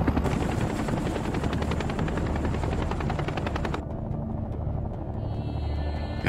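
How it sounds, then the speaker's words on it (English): Low-flying military helicopters over Vietnam, a loud continuous rotor thump with heavy turbine roar that suddenly thins out partway through, leaving a fainter whine and steady drone. "Four miles outside of LZ X-ray, the choppers drop to treetop level."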